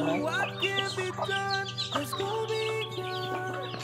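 Several chickens cluck and squawk nearby in overlapping bursts, with a steady low hum in the background.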